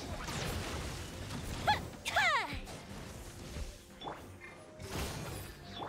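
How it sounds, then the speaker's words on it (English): Yoimya's fireworks attack in the video game Genshin Impact: a dense burst of crackling blasts, whooshes and descending whistling streaks, loud and layered over busy game effects, with sharp impacts recurring across the clip. "Here come the fireworks!"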